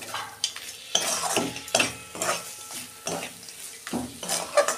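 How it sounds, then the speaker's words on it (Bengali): Mashed potato and banana flower filling with fried peanuts worked together in a pan, a rhythmic spoon scraping in repeated strokes roughly once a second, close and fairly loud. "আমি ভালো করে মিশিয়ে নেব।"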